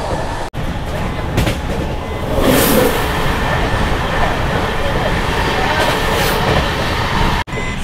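A new Humsafar Express passenger train runs at speed on the Jalpaiguri Road–Sealdah line, heard from inside as a loud, steady rumble with rhythmic wheel clatter and brief sharp thumps, a voice talking faintly in the background.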